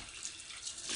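Steady stream of tap water rushing over a cast iron pan in a sink, a continuous close hiss and splash with no voices, held at an even level throughout.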